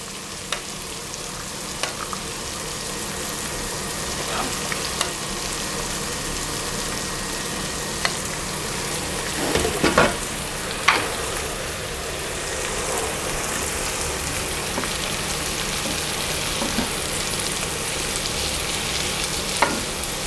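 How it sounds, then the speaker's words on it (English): Pasta and onion frying in a pan for Swiss mac and cheese, an even, rain-like hiss of sizzling with occasional clicks and scrapes as the mix is stirred, close and steady, without speech. "So sometimes you need to mix your pasta as well so it's even and cooks all through."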